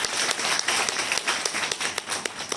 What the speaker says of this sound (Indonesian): Beri tepuk tangan yang meriah buat Tuhan Allah kita.